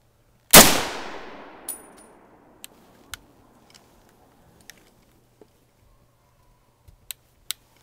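A firearm fires one loud, sharp shot outdoors that rings out and decays, followed by scattered faint clicks and clinks of handling, with no voices heard.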